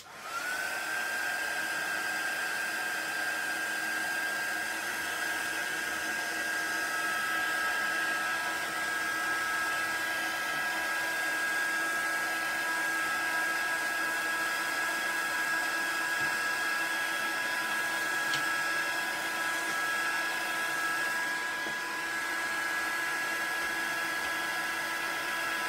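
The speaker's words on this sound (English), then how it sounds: "I have got my heat tool. So I'm just going to give this a quick heat just to dry up for you." A heat tool blows hot air to dry a handmade craft card, a steady, even whirring hiss with a faint high whine that runs without a break from start to finish.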